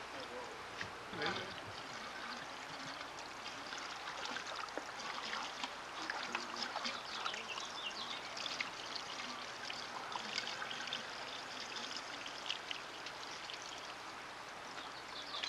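Water sloshes and trickles steadily while gold-bearing material is washed out in a small-scale mining pan or sluice, with continuous splashing and pouring through the whole stretch.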